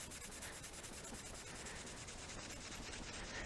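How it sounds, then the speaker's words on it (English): A red Scotch-Brite pad scrubs a rusty metal spanner in a steady, rapid rasping rub with a gritty, even texture, close and faint throughout. "I've got some red Scotch-Brite pads and a rusty spanner"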